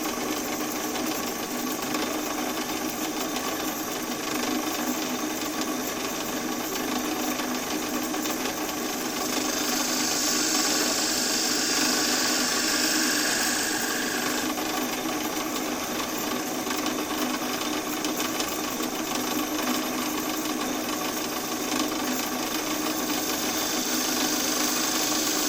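A skew chisel cuts and squares the shoulders of a wooden piece spinning on a lathe, giving a steady, loud whirring hiss throughout with a brighter scraping passage midway.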